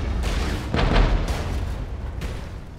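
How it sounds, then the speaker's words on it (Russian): Artillery booms in the strategy game Regiments: several heavy, rumbling blasts in quick succession over a constant low battlefield roar. "Артиллерия подавливает нормально"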